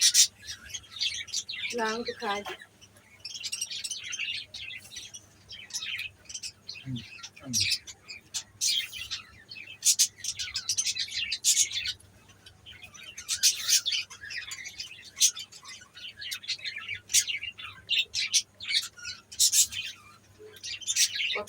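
Birds chirp and tweet over and over from nearby during heavy rain, with bursts of calls throughout and brief talk in between.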